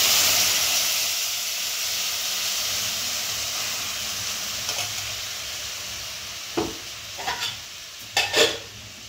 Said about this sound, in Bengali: এবার ঘিটাকে একটু নেড়ে ছেড়ে এর মধ্যে হালকা দুধ দিয়ে দিলাম।